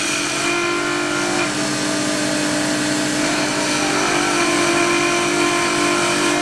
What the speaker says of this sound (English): Now I'm going to come down the hill with the spindle gouge. You can hear that rattling.